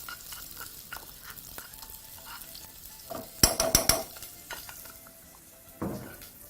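Pounded garlic frying in a pan while being worked with a wooden spoon, a low steady sizzle broken by a cluster of sharp clattering knocks midway and another clack near the end.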